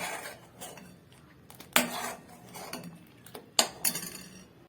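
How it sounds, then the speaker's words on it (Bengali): A metal spoon stirring milk in a pot over a low gas flame, giving soft scraping with a few sharper clinks against the rim, near and fairly quiet, with no talking. "গ্যাসটা লো ফ্লেমে রেখে দিয়েছি, দিয়ে ভালো করে দুধটাকে মিশিয়ে নেব।"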